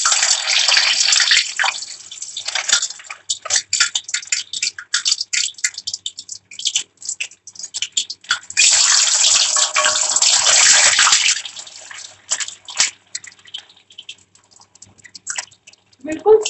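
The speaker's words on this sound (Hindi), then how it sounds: "मेरा तेल गरम हो चुका है और अब मैं इसमें चाप डालूंगी फ्राई करने के लिए" Chaap pieces frying in hot oil, a loud hissing sizzle in bursts that rises, fades and swells again, close up, with a brief clatter at the end.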